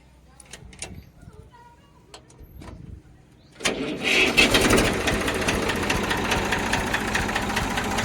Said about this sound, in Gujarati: સેલ્ફ સ્ટાર્ટ કન્ડિશનમાં ટ્રેક્ટર છે